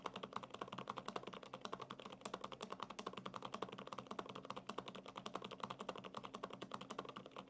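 Rapid, steady typing on a low-noise-switch mechanical keyboard, soft muted keystrokes in a dense continuous patter, close and fairly quiet, with no voices.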